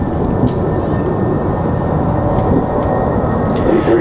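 An Airbus A320 jet departs from Raleigh-Durham airport with a loud, steady roar of engine thrust that holds strong and unbroken throughout.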